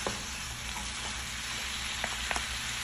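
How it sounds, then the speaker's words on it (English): Steak and potatoes frying together in a pan while being stirred, a steady close sizzle with a few small scraping clicks near the end and no voices. "So just stir all that together like that"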